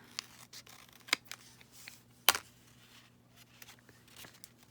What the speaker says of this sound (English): And just fold that down like that and snip away some of that side edge.